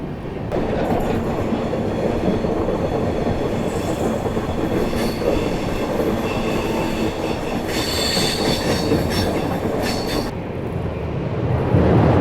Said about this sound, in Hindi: फिलहाल अपनी ट्रेन जो है इटारसी जंक्शन को बाईपास कर रही है।